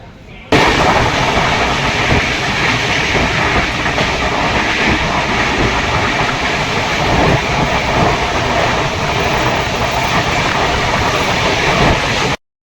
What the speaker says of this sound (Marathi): चला तर मग आता ट्रेन पकडूया.